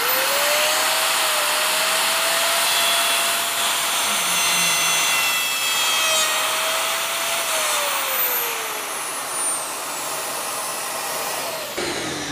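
A dust-extraction vacuum hooked to a trimmer router cutting wooden tenon joints roars steadily and loudly throughout, with the whine of the router rising and falling over it and no speech.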